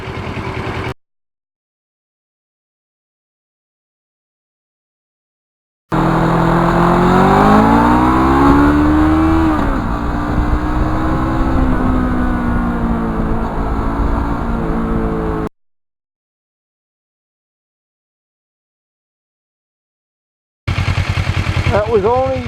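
Kawasaki Ninja motorcycle being ridden, engine sound in a loud sustained stretch with shifting pitch, set apart by silent gaps, with a brief burst at the start and end.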